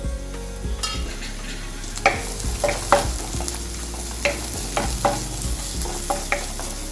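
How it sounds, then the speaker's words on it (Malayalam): Sliced onions sizzle in coconut oil as a spoon stirs them, sharp scrapes and taps sounding at irregular intervals over a soft continuous frying hiss, close up and with no speech. "കുറച്ച് വെളിച്ചെണ്ണ എടുക്കുക ഇനി നമുക്ക് ഈ സവോള ഒന്ന് വഴറ്റാം"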